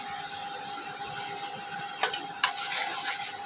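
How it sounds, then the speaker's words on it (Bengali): Spices being stir-fried together in a pan for a Bengali aloo potol dalna, with salt and turmeric added, giving a steady close sizzle broken by a few sharp scraping stirs. "এবার একসাথে মশলাটাকে কষিয়ে নিয়ে"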